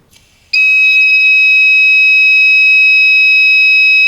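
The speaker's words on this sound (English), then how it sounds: "And the buzzer is on." A gas sensor's shrill electronic buzzer, triggered by lighter gas, suddenly sounds after a brief quiet moment, then holds one loud, steady, piercing tone without pause.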